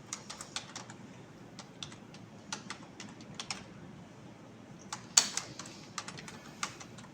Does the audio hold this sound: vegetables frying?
no